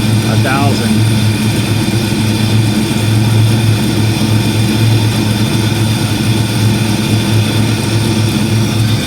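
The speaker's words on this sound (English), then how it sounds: "That's awful high idle" A 1940 Chevy coupe engine runs at a stuck high idle of about 1,000 rpm, a loud, steady low drone that holds throughout, with some talk over it.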